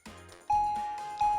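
An OMERIL wireless doorbell with 32 tunes, turned down to a lowered volume, plays a soft chime: a clear electronic tone rings twice in steady succession, fairly quiet and alone.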